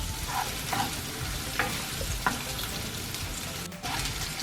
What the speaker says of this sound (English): I'm going to stir it up for about a minute to a minute and a half. Until the onion is a little bit tender.